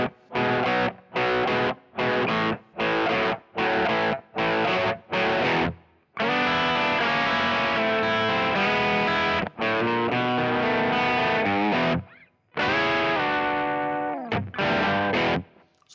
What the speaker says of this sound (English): the little blues riff I'm using for this 12-bar blues